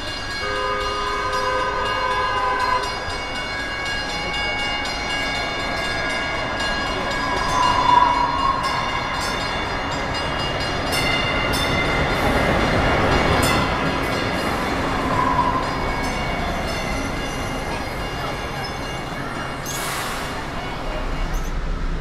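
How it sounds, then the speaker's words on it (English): A DART Red Line light rail train bound for Parker Road rumbles around a corner toward a downtown Dallas station, its steady wheel and rail noise swelling and nearing, with brief tonal horn or bell notes over the din. "the approaching Red Line train for Parker Road will end this video as it comes around the corner here"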